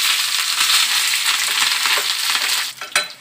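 Curry leaves hit hot oil in a tempering of cumin and dal, bursting into a loud, dense crackling sizzle that fades slightly before a sharp utensil knock near the end, close by and with no talking.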